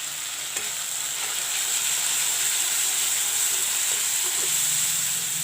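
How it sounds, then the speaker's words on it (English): Masala with turmeric and chili powder fries in hot oil as a constant, dense hiss, broken by a few faint scrapes of stirring and no talking. "Let the masala fry a bit little."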